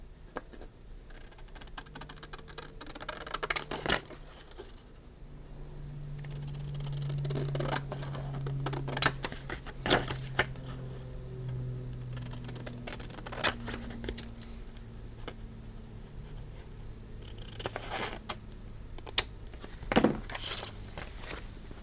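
Scissors cut out a large paper tunnel tag in a craft setting, with repeated snips and paper crinkling and rustling close by across the whole stretch and no talking.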